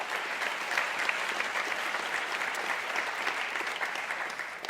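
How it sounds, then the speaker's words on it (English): Audience applause fills a hall at the Washington Ideas Forum, a steady, dense clapping from a large crowd that holds at an even level for about five seconds before easing slightly at the end. "I was going to ask you to applaud our guest, but you've already done that"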